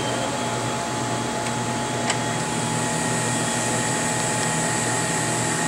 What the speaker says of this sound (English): Now the turbo pump just started to accelerate